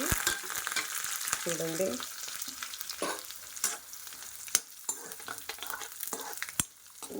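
Tempering seeds for cumin rice fry in hot oil in a pan, giving a continuous close sizzle and crackle with occasional stirring scrapes and a brief spoken word.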